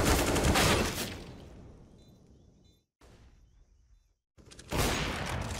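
Bursts of gunfire in a competitive esports semifinal between 00NATION and Filhos de D1OS: a loud, dense volley opens, fades into a quiet gap, then another sharp burst of shots returns at the end.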